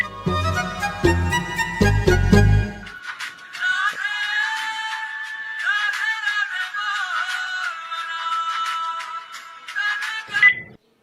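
A phone rings: a melodic electronic ringtone plays loudly for several seconds after a brief burst of music, its repeating tune continuing steadily until it cuts off.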